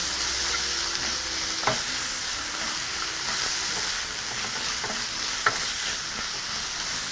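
Pork cooking over high heat in a pan as it is stirred and mixed through, giving a loud, steady sizzle with a couple of sharp utensil knocks.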